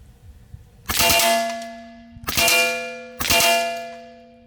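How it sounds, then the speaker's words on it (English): A Mordax PCP air pistol fires three sharp metallic cracks spaced about a second apart, each followed by a long ringing clang like steel targets being struck, loud and close with no talking. "I only took a 3-shot burst."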